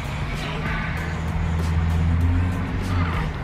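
A car drives along with a steady close road rumble and low engine hum, and tyre and wind noise run throughout.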